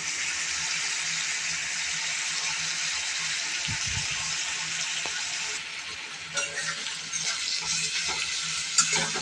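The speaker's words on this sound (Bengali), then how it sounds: "বাটারে চিকেন ভাজা হচ্ছে, তাও আদা রসুন দিয়ে" Chicken frying in butter with ginger and garlic paste for a spicy chatpata starter gives a loud, steady close sizzle, with a few stirring clatters and crackles toward the end.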